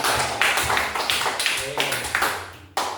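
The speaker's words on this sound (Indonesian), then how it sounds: "Tepuk tangan. Tepuk tangan." A classroom of students claps in short bursts, a few rounds of quick, uneven applause with voices mixed in underneath.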